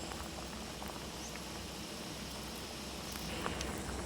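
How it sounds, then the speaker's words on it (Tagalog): A pot of tomato, ginger and lemongrass simmers at a steady boil, a soft, even bubbling patter that runs unbroken and fairly quiet throughout, with no one speaking. "nagpakulo na ako ng kamatis, luya, at saka ano ba yung tanglad"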